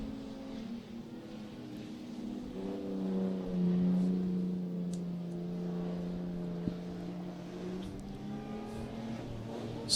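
Street stock cars race around Meeanee Speedway, engines droning and rising and falling in pitch as they pass at a distance, a steady layered roar with one car surging louder midway.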